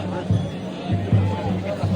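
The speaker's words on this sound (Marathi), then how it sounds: "आता पण गर्दी खूप आहे इकडे" Crowd babble fills the courtyard at Kedarnath temple, an even murmur of many voices with a few closer, brief knocks or thumps punctuating it.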